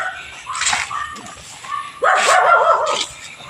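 Several dogs barking at a family home, a few yelping barks near the start then a louder burst of overlapping barks and yips around the middle, with a quieter bark near the end over faint background noise.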